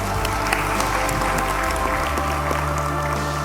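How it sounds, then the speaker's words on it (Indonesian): Applause from participants at a DPR parliamentary committee meeting after a bill revision is approved, a dense continuous clatter of clapping over a low steady hum, with no talk. "Boleh tepuk tangan dong."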